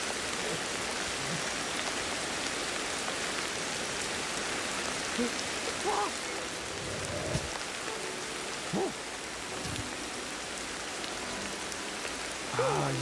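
Steady video-game rain patters and hisses continuously, with a few faint scattered knocks and noises mixed in.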